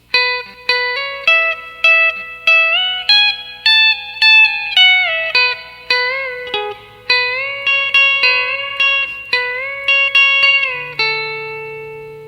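Electric guitar plays the next line of a song with B-bender style bends, a steady run of clean picked notes high on the neck, close and alone, ending on a sustained low note.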